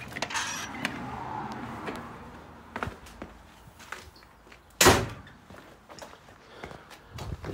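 A door opens with creaks and rattles, scattered knocks and footsteps follow, and a sharp bang stands out midway before quieter shuffling clunks.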